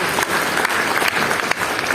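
Church congregation applauding during a sermon, a dense steady wash of clapping from a crowd, fairly loud and continuous without break.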